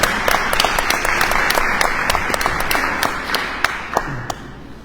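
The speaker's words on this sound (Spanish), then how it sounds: "Damos un aplauso al doctor Jorge Rodríguez Simorgado" An audience at a panel discussion gives a close, steady round of applause, crisp individual claps standing out from the dense patter before it thins near the end.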